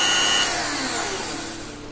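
A mini rotary tool from a detail-work kit runs steadily at close range, a loud continuous high-pitched whine that eases slightly in pitch and volume over two seconds, with no talk.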